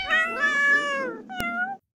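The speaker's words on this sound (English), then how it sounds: "Are 12 cats stuck in a tree?" A cartoonish cat meow sound effect: one long, loud meow, then a shorter second meow with a sharp click between them, ending in silence.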